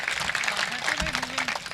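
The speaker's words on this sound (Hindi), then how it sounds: "एक बार मुझे तालियां बजाकर अनुमति दीजिए" Audience at a Hindi poetry recital clapping steadily, the applause fairly close with a voice speaking faintly underneath.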